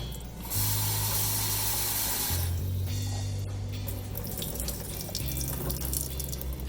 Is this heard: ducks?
no